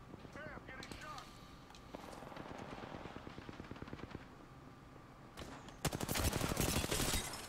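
Rapid automatic gunfire in an Apex Legends duos match, long rattling bursts of shots close up with a louder, denser volley near the end, while players talk over it.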